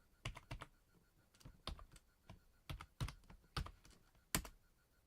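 Typing on a computer keyboard mapped to a retro 6502-based BASIC machine, a run of about a dozen close, crisp key clicks at uneven pace, alone with no talk.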